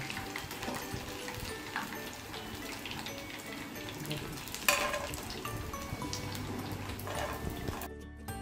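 Chicken pieces frying in hot oil, a steady crackling sizzle with occasional sharper pops and a brief clatter, running throughout and dropping out right at the end.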